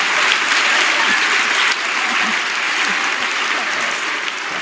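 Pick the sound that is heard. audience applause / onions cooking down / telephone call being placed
audience applause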